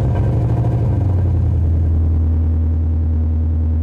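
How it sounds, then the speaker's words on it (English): Deep, steady rumble of an idling V8 exhaust on a 2015-2017 Ford Mustang GT with a Flowtech 3-inch stainless dual-exit axle-back, loud and close, with a low burbling pulse throughout. "At idle, it definitely is one of the deeper sounding systems I've heard, especially for an axle back."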